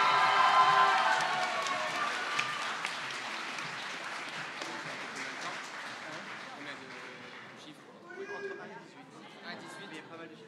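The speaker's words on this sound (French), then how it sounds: "Applaudissez-le." Audience at a law students' speaking contest applauding a competitor, a dense burst of clapping and crowd noise that gradually fades, with voices talking as it dies away.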